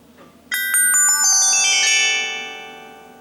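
A short electronic melody of bright descending chime notes plays from a Samsung mobile phone speaker as it shuts down, ringing out and fading away after a few seconds.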